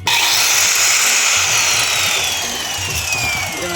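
A Prithibi brand construction machine runs at a worksite, giving a loud, steady mechanical whine and grinding roar with a slowly falling high pitch, sustained throughout.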